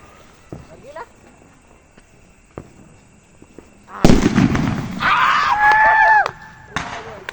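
A sharp, loud Diwali firecracker blast goes off after a few seconds of quiet, followed by crackling, hissing and shrill whistling as it burns out.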